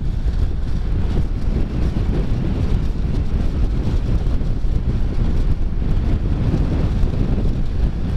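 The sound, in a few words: strong headwind during a motorcycle ride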